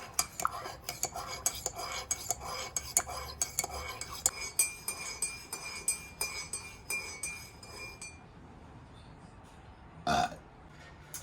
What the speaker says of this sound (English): I'm gonna stir that around for a nice minute